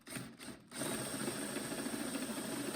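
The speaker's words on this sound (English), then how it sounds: "I'm going to drill some new mounting holes. And again, using my self-tapping tech screws" A power drill driving self-tapping tech screws to make new mounting holes in a metal snow thrower bracket whirs steadily and close, with a brief pause and restart before a sustained run.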